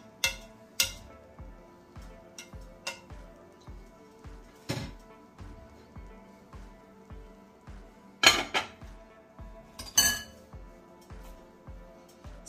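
A metal spoon scrapes and knocks against a pot while cooked rice is stirred around for Jamaican rice and mackerel, giving sharp clinks and clanks at irregular intervals over a faint, steady low hum, fairly quiet and close.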